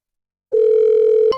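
A telephone dialing tone sounds as a single loud, steady pure tone lasting under a second, starting abruptly and ending with a click.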